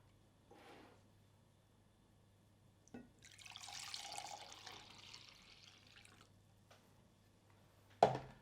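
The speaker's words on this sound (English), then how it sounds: "See if I can pour it without spilling." Fresh watermelon juice is poured quietly for a few seconds, a soft trickling splash, with a faint tap before it and a sharper knock of a container being set down at the end.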